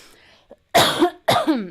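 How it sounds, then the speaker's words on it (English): Two harsh, close coughs from a person, spaced about half a second apart, follow a faint short throat sound. Each bursts loud and dry, then trails off quickly into near silence. "me coughing, just what you want to hear, I'm sure."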